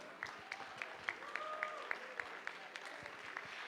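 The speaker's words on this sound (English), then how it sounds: "Put your hands together for them." An award-ceremony audience for a global fellowship presentation applauds, a dense, steady wash of clapping heard at a moderate distance and continuing throughout.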